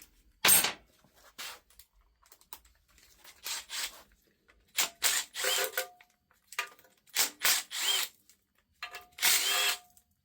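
A Milwaukee M12 cordless power tool, used while removing an engine's harmonic balancer and timing cover, whirs in short repeated bursts separated by quiet gaps, fairly close.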